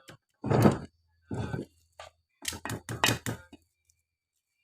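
A hammer tapping on an electric dynamo motor during rewinding, about eight sharp metallic knocks in irregular clusters, close and clear with brief gaps between them.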